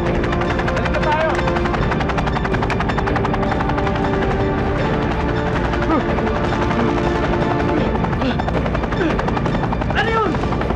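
A helicopter flies steadily close by, its loud, continuous rotor and engine roar filling the scene from an action film, while voices shout over it.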